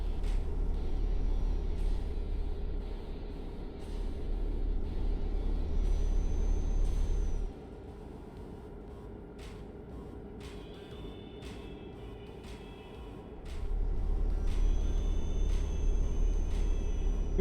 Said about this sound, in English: we made it past all those trucks and cars